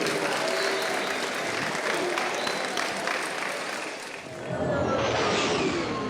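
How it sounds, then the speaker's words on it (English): An audience at a Festival of the Force convention panel applauds for about six seconds, a dense, steady wash of clapping that dips briefly near the end and then swells again. "Can we have a big round of applause for Toby and Jimmy?"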